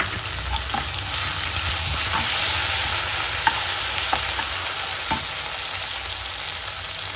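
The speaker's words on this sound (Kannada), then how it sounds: "ಈಗ ಇದಕ್ಕೆ ಒಂದು ಟೇಬಲ್ ಸ್ಪೂನ್ ಶುಂಠಿ ಬೆಳ್ಳುಳ್ಳಿ ಪೇಸ್ಟ್ ಹಾಕ್ತಾಯಿದ್ದೀನಿ" Ginger garlic paste hits frying onions in a pan on low heat, making a loud, steady, close sizzle with a few soft scraping knocks from stirring.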